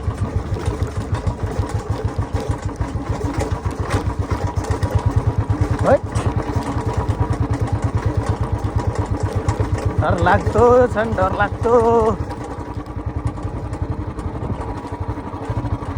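A Royal Enfield Bullet 350 motorcycle on a group ride gives a steady, close, low thumping engine drone throughout, with a rider talking over it.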